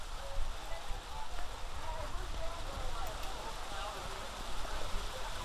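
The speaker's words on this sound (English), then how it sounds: "Rain certainly is not letting up" Steady rain falls over an outdoor soccer match between Chattanooga Red Wolves and North Texas, a dense continuous hiss of drops with faint crowd or field noise underneath, unbroken throughout.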